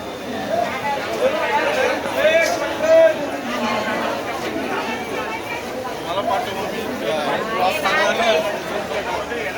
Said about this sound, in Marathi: आज दादर मार्केटमध्ये गर्दी आहे